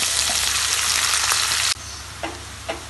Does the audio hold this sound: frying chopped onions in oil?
yes